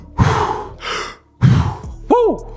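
A voice imitates labored breathing, struggling for air with a few heavy, strained breaths and gasps separated by short pauses, close and fairly loud.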